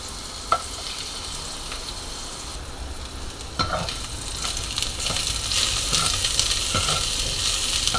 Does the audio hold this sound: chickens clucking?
no